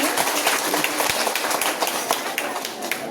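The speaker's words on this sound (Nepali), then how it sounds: "फेरि पनि महान परमेश्वर पिताको लागि सम्मान स्वरूप जोरदार ताली" Loud applause at a church worship gathering honoring God the Father, dense steady clapping throughout with a voice speaking over it.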